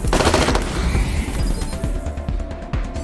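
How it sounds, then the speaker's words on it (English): Rapid bursts of automatic gunfire rattle in a Wasteland 3 combat encounter, with a dense opening volley followed by sharper single cracks and short bursts. "So let's just open fire."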